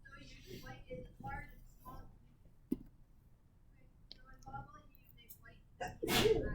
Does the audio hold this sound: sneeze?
yes